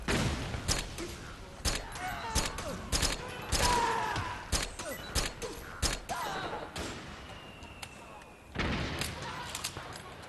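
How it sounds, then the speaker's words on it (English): Bursts of gunfire in Metal Gear Solid 4: Guns of the Patriots, with repeated sharp shots and short volleys spread across the scene amid battle noise, with people talking in between. "Who the fuck's shooting these guys?"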